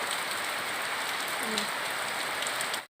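Heavy rain pours down in a steady, dense hiss of drops on surfaces, flooding around a house, continuous and loud until it cuts off abruptly near the end.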